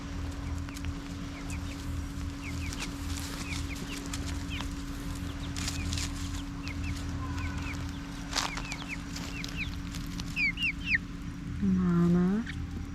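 Mother hen and her chicks in a garden at dusk: soft clucking and chick peeps over a steady hum, with other birds calling in the background and a louder cluck near the end.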